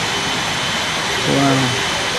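An airplane engine roars in the Real Flight Simulator video game, a loud steady broadband whoosh throughout, with a brief voice near the middle.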